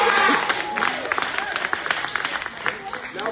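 An audience at a women's event gives a short burst of hand clapping, scattered claps that fade over a few seconds, with voices audible in the room.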